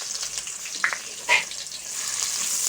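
Onions sizzle steadily in hot ghee in a cooking pot, a close, continuous frying crackle with a couple of brief clinks from stirring partway through.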